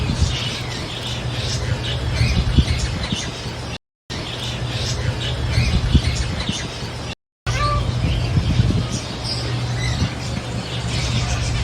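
Steady chorus of birds squawking and chirping at a bird park in Madinah, a continuous busy flock close by with no clear pauses apart from two brief cuts.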